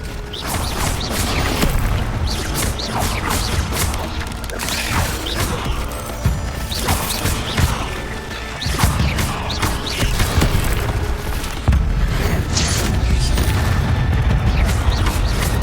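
Spell effects from the Hogwarts Legacy video game, including the disarming charm, as a dense, continuous wash of magical crackles, whooshes and booming impacts with metallic clanks, loud throughout and layered with game ambience.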